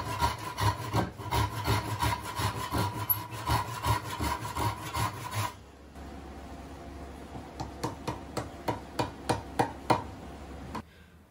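A hand saw cuts slots into wooden tenons for wedges on a bench, first in a dense run of quick rasping strokes, then in slower, separate strokes, close and fairly quiet.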